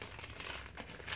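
A small plastic packet holding jewelry crinkles and rustles close up in a steady, continuous rush of soft crackling throughout, with no talking.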